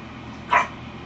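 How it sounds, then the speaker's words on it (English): A single short dog bark, sharp and fairly close, pops out of a quiet room background, with no other sound around it. "You hear her barking?"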